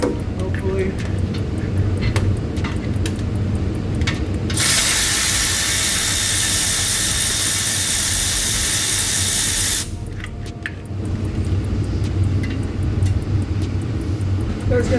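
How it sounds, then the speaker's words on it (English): An air ratchet whirs in a loud, continuous hiss-and-buzz burst of about five seconds during transmission removal on a 2015 Chevy Silverado 2WD with a 6L80 gearbox, framed by clicking and shop noise. "Now we go to the air ratchet."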